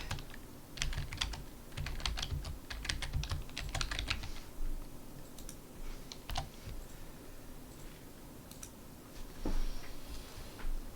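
Typing on a computer keyboard comes in quick, irregular bursts of key clicks separated by short pauses, close and quiet, with no talking.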